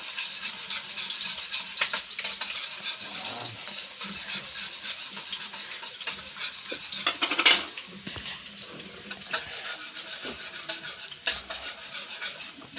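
Garlic and onion sauté in a pan for bopis, a soft, steady sizzle under repeated clinks and scrapes of a spoon against the pan, with one louder clatter near the middle.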